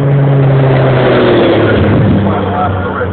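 Porsche 956 race cars blare past with a loud, rasping high-revving engine note that swells and then eases, while people talk over the racket.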